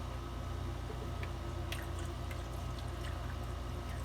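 Liquid pours steadily into a cup set beneath a machine during household cleaning, a continuous splashing trickle close by with a few faint drips, no voices.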